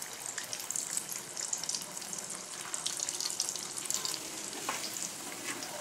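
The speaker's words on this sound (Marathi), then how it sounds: "आता त्यांना आपण तळून घेऊ. एक एकच टाकायचे, हळूहळू तेल अंगावर उडतं." Taro leaf rolls (alu vadi) fry in hot oil, producing a dense, continuous close sizzle with crackling pops throughout.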